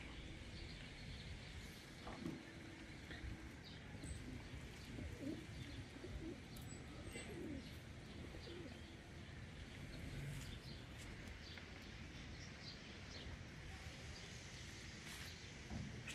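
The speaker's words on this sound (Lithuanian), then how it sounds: "Balandžiai." Pigeons cooing softly in Bordeaux city, faint low coos with a few chirps over steady street background hum.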